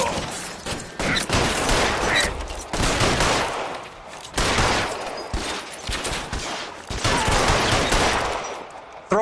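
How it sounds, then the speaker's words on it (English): Heavy gunfire from a shootout in the video game LA Noire, with dense bursts of rapid automatic and pistol shots crackling nearly nonstop, loud and close, broken by brief pauses. "Fire a warning round."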